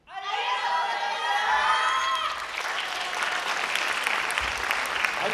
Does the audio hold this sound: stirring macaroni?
no